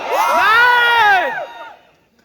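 An audience at a Hindi-language finance talk shouts out loudly together in response, a sustained crowd cheer that swells for about a second and then fades out.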